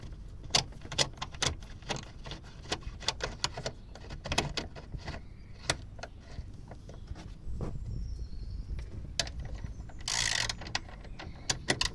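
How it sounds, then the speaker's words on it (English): A ratchet tightens the battery clamp bolt on a Hyundai i10, giving a run of quick, sharp metallic clicks in uneven bursts, close and moderately loud, with a brief rustle near the end. "Then tighten it up with the ratchet."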